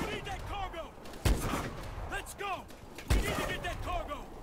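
Gunfire in Call of Duty: Advanced Warfare: a few heavy, punchy shots ring out about two seconds apart, mixed with shouted voices and chirpy game sound effects.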